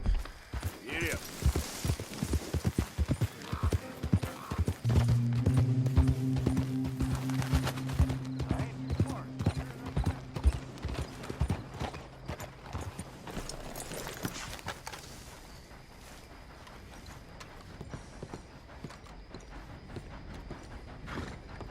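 Hoofbeats of a horse ridden at speed in Red Dead Redemption 2, a quick rhythmic clatter running through most of the clip with a brief tonal whinny-like sound in the middle and talk over it.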